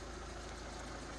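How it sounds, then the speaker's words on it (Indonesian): A 1987 Honda Civic engine idles in a steady, even low drone with a faint hiss on top, continuous and unchanging, with no voices over it. "Nih, dengerin dulu suara mesinnya. Nih, kondisi mesin menyala ya"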